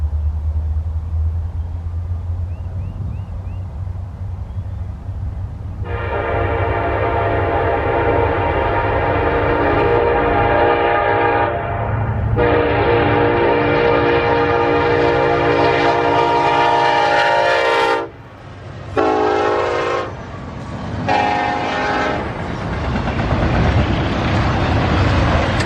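Norfolk Southern freight train 24X rumbles past at track speed, loud and close, while its horn blasts several long sustained notes, then a few shorter ones, over continuous wheel and engine noise.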